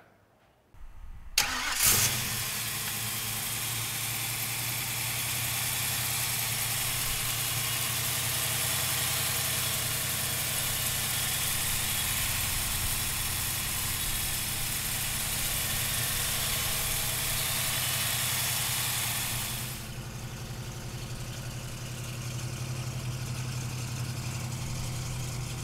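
A 1968 Ford Mustang with a 351 engine cranks and catches after a brief pause, then settles into a long, steady, rumbling idle, close and loud, with a slight change in tone near the end.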